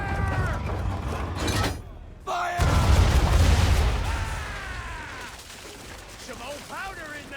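Ship cannons firing a broadside in the Assassin's Creed III video game, booming rumbling blasts in quick succession that swell after a brief pause and roll off slowly, with shouted voices and game sounds over them.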